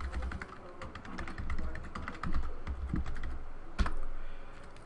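Rapid typing on a computer keyboard while logging into a telepresence VCS server, a dense run of close, crisp key taps with a few louder strokes, no voices.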